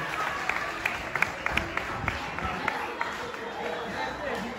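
Audience applause at a Miss and Mister Élégance pageant event, a steady wash of clapping from a crowd with chatter mixed in, fairly distant and continuous throughout with a few sharper claps standing out.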